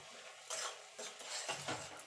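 Spice masala for a drumstick and potato curry is stirred in a frying pan, with quick scraping strokes of a spoon over a faint sizzle, close but quiet.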